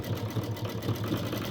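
A sewing machine stitching a fabric bowl, a close, steady rapid mechanical whir with a regular stitching pulse throughout and no voices.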